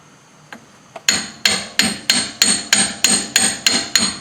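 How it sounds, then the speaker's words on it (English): Two light taps, then a steady run of ringing metallic hammer strikes about every third of a second, loud and close with no talking, as a pinion seal is tapped on during reassembly of a 2001 Ford Explorer Sport Trac. "I'm going to just tap that on with a hammer."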